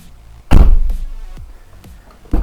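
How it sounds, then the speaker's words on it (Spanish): A Renault Laguna II car door is swung open and shut, giving loud close thuds and latch clunks with quieter mechanical clicks between them. "Primero probamos que abra y cierra perfectamente."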